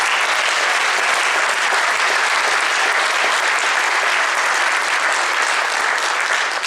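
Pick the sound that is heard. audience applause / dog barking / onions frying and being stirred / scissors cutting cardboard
audience applause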